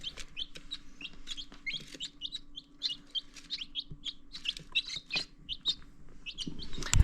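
Young Old Lace Wyandotte chicks peep and cluck steadily while pecking at feed, a busy overlapping run of high chirps close by with faint background hum and a bump near the end.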